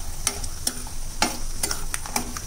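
Peanuts frying in hot oil in a home kitchen pan, a steady sizzle broken by sharp, irregular crackles and pops, loud and close, with no voices.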